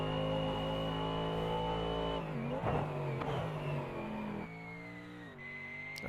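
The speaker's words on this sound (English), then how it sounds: "And there's the typical AMG sound blip." A Mercedes-AMG GT-class race car in a sim racing game gives a sharp engine blip on a downshift, its steady high-revving tone dropping and surging again before settling, loud and close with no talk.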